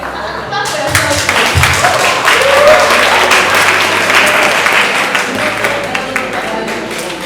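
Audience applause at a creative economy event, loud, dense clapping from a nearby crowd sustained for several seconds, with a voice speaking over it.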